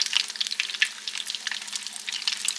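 Grit puppies frying in hot oil with steady crackling and popping, a dense sizzle with frequent sharp spits, close up and uninterrupted.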